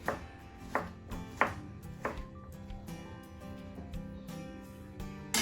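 A kitchen knife dices zucchini on a cutting board, a run of close, sharp chops in uneven bursts, several clustered strikes followed by lighter cutting, with no talk over it.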